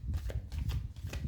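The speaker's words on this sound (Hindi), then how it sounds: "Just a quick shuffle." A deck of tarot cards being shuffled, a few quick riffling bursts of papery flicks close to the mic, with no talking.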